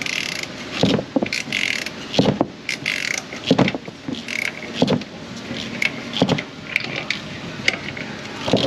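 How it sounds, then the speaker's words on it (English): A ratchet wrench clicks in repeated bursts while loosening a fastener on a car's front suspension, close and loud, with metallic ratcheting and short pauses between pulls; no talking. "pull on the wrench, and that might give some extra friction to let the ratchet reset"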